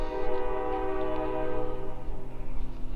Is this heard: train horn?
yes